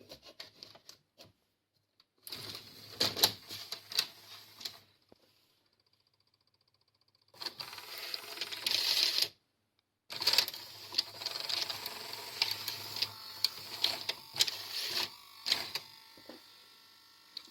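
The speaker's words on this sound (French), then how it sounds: "j'ai rembobiné la cassette" A Philips VR-600 VCR rewinds a cassette with a steady whirring mechanical hum and light rattling, heard in several sustained runs broken by short pauses, close and fairly loud.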